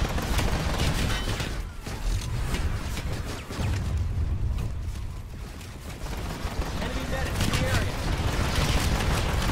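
Gunfire in a video game battle defending NC Arsenal: dense, continuous bursts of shots and explosions under a steady stream of talk.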